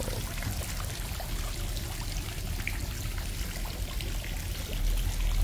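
Water gushes out of a drained catfish pond in a steady, full rushing pour with continuous splashing and trickling, building slightly louder at the end, with no voices.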